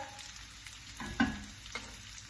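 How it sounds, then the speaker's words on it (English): Hash browns sizzling quietly in a pan, with a few soft scrapes and taps as a spatula presses them down, one firmer press standing out midway. "So occasionally squashing them just to press them down with the back of a fish slice or a spatula"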